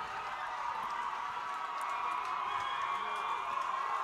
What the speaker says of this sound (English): Love seeing the good crowd. It's loud.